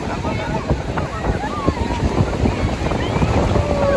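A motorboat churns across open water in Goa, engine rumble mixed with splashing and gusty wind buffeting the microphone, with voices talking over it.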